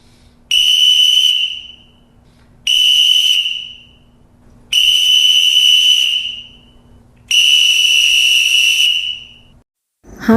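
Four long, loud blasts of a referee's shrill whistle, each lasting about a second and a half, separated by short silences.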